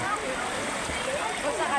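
Water running from a tap where children bathe in Barangay Lidong, Legazpi City, splashing and gurgling softly beneath people talking nearby.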